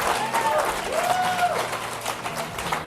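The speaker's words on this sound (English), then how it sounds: "Round of applause for all the finalists" Audience applause for the finalists at an entrepreneurs' challenge event, a steady wash of clapping from a seated crowd lasting throughout, with voices and music faintly mixed underneath.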